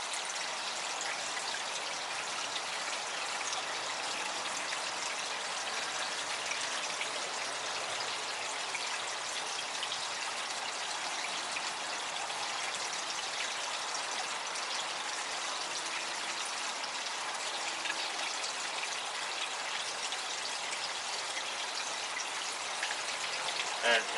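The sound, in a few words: pond water stirred with a small net to scoop debris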